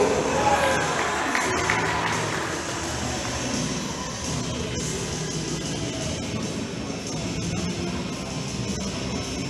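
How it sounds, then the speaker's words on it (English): A crowd at a powerlifting competition applauds and cheers after a 255 kg squat: a broad, rumbling wash of clapping and voices that stays loud and steady throughout, with indistinct chatter mixed in. "let's give him a round of applause"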